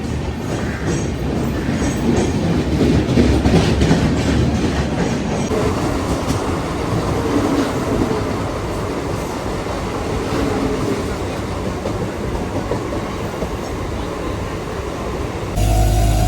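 A local train bound for Bandra station rolls steadily along with continuous rumbling and rhythmic clickety-clack of wheels on rails, loud and close, as if heard from inside a carriage.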